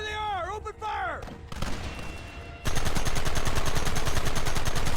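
Gunfire from the video game Red Dead Redemption follows a shouted voice and some short rumbling, then becomes a loud, dense stream of rapid shots that continues steadily to the end.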